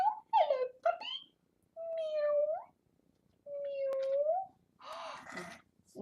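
A child imitates cat sounds, giving several meow-like calls and a breathy hiss, voiced in short separate bursts close to the microphone.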